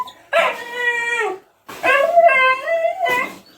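Puppies on a farm let out long, high whimpering howls, two drawn-out cries close by with a short yip at the end.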